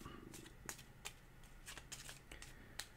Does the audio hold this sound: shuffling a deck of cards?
yes